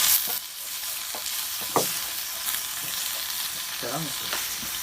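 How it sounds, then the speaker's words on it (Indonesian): Spice paste and grasshoppers stir-frying outdoors at night, a steady close sizzle broken by a few scrapes and clatters of the spatula against the pan. "kita akan tumis bumbunya. Selanjutnya kita masukkan belalangnya"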